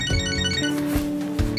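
Phone ringtone in the video game Catherine: Full Body, a short steady electronic tone pattern with repeating pulses, clear and alone for under two seconds.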